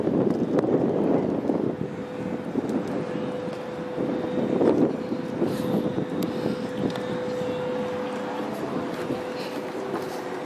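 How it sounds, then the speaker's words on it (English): Steady wind buffets the microphone at Pier 7 in San Francisco, a continuous low rumble with gusts, while a faint engine drone runs in the background. "the wind is going against us"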